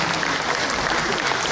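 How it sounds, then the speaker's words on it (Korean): Warm audience applause for a salpuri dancer at a Korean traditional music preservation society's anniversary performance, a loud, dense wash of clapping that continues evenly through the whole moment. "이서윤 씨께 다시 한번 따뜻한 격려 박수 부탁드리겠습니다."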